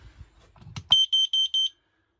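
A carbon monoxide alarm fitted in a van, giving four short, loud, high-pitched electronic beeps in even succession after a brief clatter, then silence.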